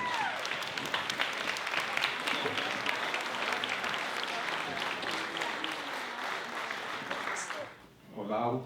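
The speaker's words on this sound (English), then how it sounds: "Let's make a round of applause for our bride, Chris Tennyson." Wedding guests at a reception toast give the bride a round of applause: dense, steady clapping from a sizable crowd fills the room for several seconds, then fades out abruptly as a voice begins speaking.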